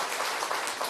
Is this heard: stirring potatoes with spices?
no